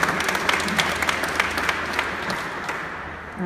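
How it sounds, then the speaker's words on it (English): Audience applause at an Oakland legacy business reception during Small Business Week, a full round of clapping that gradually thins and fades toward the end. "One final round of applause for an amazing number of legacy businesses."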